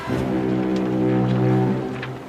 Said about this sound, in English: Well, that was the sludge tanker over there